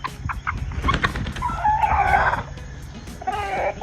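Chickens in an established flock cluck and call as a new hen joins, with a rooster's crow rising in the middle, busy overlapping fowl sounds close by.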